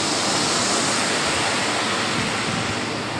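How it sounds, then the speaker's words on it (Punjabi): Outdoor air conditioning units cooling a milk tank on a dairy farm give off a loud, steady, broadband whoosh that holds unchanged throughout, with no voices. "ਇਹਨੂੰ ਠੰਡਾ ਰੱਖਣ ਲਈ ਬਾਹਰ ਆਹ ਲੱਗੇ ਆ AC"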